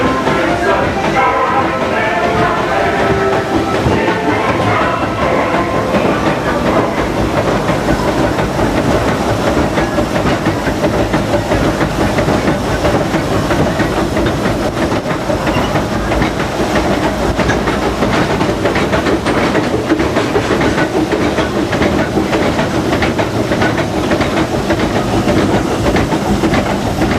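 Disneyland Railroad #4 Ernest S. Marsh steam locomotive running, a steady rumble with rolling wheel clatter and hiss that continues throughout, while people chat faintly in the background.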